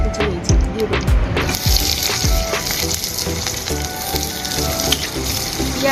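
Chopped onion and green chilli frying in hot oil, a dense, continuous sizzle close up, punctuated by scraping and clinking as the pan is stirred.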